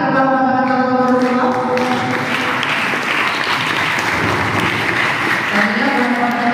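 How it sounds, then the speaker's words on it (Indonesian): An audience at an Islamic boarding school student-association election debate applauds for candidate pair number 2, steady broad clapping lasting several seconds with sustained musical tones or feedback running underneath. "Oke, kami tepuk tangan kepada pasangan calon nomor 2"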